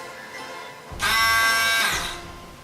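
A Star Wars lightsaber-style immersion blender switches on with a sudden loud, high-pitched motor whine, runs steadily for about a second, then winds down, with a fainter hum before and after.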